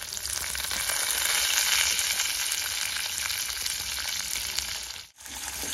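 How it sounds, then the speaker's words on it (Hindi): One large onion frying in a pan with oil, a loud, dense, unbroken sizzle close by that dips only briefly near the end. "और प्याज को हम थोड़ा सा भून लेंगे।"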